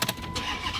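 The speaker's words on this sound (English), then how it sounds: "I gotta start the engine for this one" Chrysler 300C with a Hemi V8 firing up: a quick cranking stutter catches into a steady idle, moderately close, with no talk.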